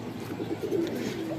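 Pigeons cooing in a hot loft under a low roof, soft rolling coos rising and falling close by against a faint background hum, with no talking.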